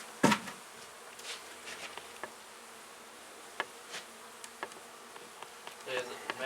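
Honey bees buzz around a large hive being cut out, a faint, constant hum with individual bees zipping close past at intervals, alongside a few soft knocks.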